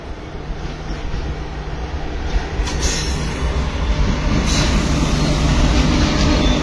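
Mandovi Express running on the Konkan Railway heard from inside a carriage, a loud continuous rumble of wheels on track that builds steadily, with brief metallic squeals.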